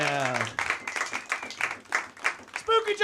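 A live comedy podcast audience claps in a short burst of scattered applause after a spoken line, several hands patting unevenly for a couple of seconds, with a voice briefly cutting in near the end.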